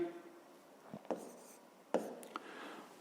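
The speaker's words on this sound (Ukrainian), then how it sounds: "Записуємо тоді третя дія" Pen on paper writing out the third step of a fifth-grade math exercise: faint scratching strokes with a few sharper taps, quiet and close, with no talking.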